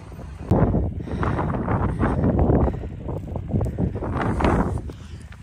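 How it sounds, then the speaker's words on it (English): Strong wind buffets the microphone in heavy, rumbling gusts on sandy off-road terrain, loud and close, with no clear voices. "Super windy."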